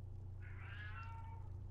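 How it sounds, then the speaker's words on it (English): A single drawn-out cat meow from a house cat in Skyrim Anniversary Edition, rising and then trailing off over about a second against a steady low hum. "Oh, stop meowing!"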